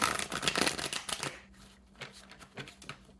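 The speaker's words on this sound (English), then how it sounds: "Let me make sure I shuffle them" A deck of cards is shuffled up close, a quick riffle of rapid flutters followed by a few softer slaps and taps as the cards settle.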